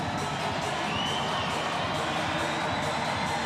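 A Western Hockey League crowd at Prospero Place cheers and roars in a dense, steady wash of noise filling the hockey arena, with faint commentary underneath.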